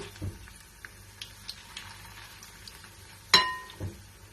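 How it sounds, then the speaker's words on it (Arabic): Small fish fry in hot oil with a soft, steady sizzle, broken by light clinks of a utensil and one sharp metallic clink against the pan. "هكمل بقى قلي كده ما تتحمر، هقلبها على الناحيه التانية وهكمل القلي بنفس الطريقه"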